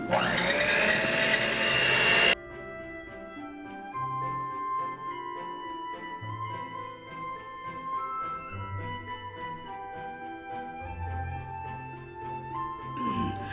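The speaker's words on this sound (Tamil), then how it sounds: "ஸோ இந்த இருக்குது என் ஹேண்ட் மிக்சர், எலக்ட்ரிக் பீட்டர் இருக்குது." An electric hand mixer fitted with a wire whisk beats a sugar mixture in a loud, whirring burst of about two seconds, then stops abruptly and gives way to soft background music.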